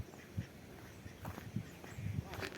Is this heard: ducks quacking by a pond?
yes